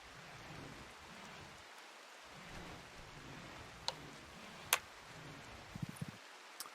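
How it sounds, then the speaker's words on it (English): Steady rain falls in the Rimworld video game, a soft constant hiss with a few sharp ticks and drips scattered through it, no voices. "It's raining right now."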